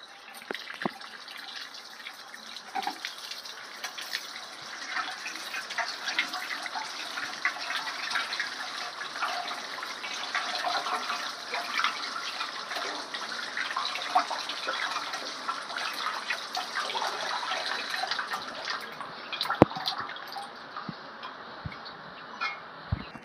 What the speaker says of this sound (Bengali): তো বন্ধুরা আনারসটা আমি একটু ধুয়ে নিচ্ছি ভালো করে।